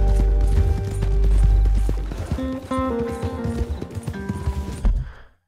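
Horse hooves in Red Dead Redemption 2, rapid loud clip-clop footfalls up close with a rumbling gallop, then slower uneven steps before cutting to silence, no speech.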